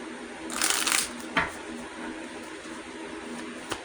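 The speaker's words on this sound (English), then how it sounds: "So let's shuffle and do that once more." Tarot cards are shuffled in a quick riffling burst, followed by a few brief soft taps and slides of the deck, close by and quiet against a low background.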